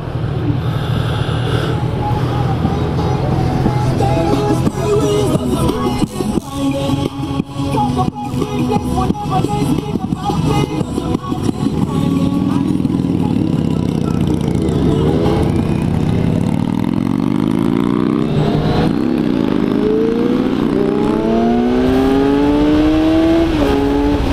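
A 2015 Kawasaki Z1000 motorcycle roars loudly throughout a test ride, its engine revving and pitch climbing steadily as it accelerates hard, with wind noise and no speech.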